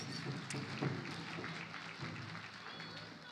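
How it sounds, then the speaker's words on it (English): An audience at a powwow grass dance championship claps in a soft, steady wash of applause, faint and distant, with a voice talking over it. "Big round of applause."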